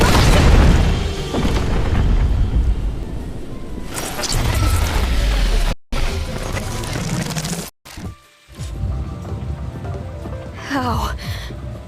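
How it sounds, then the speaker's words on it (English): Loud booming explosion in the Tower of Fantasy video game at Aurora Industries, a heavy low rumble opening the clip, followed by cracking debris, brief dropouts and game voices talking. "Where did this explosion come from?"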